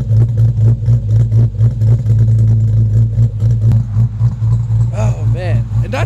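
A loud car exhaust rumbles and revs in pulsing bursts, deep and throaty, close by, with a brief higher squeal near the end, at a drag racing event.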